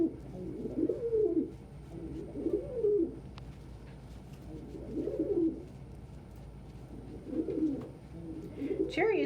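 Pet pigeons or doves coo in repeated low, throaty bursts with brief squabbling, close by and moderately loud against a quiet indoor background.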